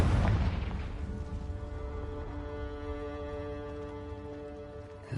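Confringo explosive spell blast in Hogwarts Legacy, an opening low boom decaying into a droning, tonal hum that lingers, with a small thump right at the end.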